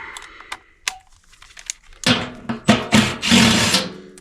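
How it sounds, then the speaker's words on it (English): Bolts are backed out with a 7/16 wrench on a unit with no airflow, giving sharp metallic clicks and ratcheting rattles, sparse at first, then a denser burst of close clanks and scrapes. "Let's get these bolts out."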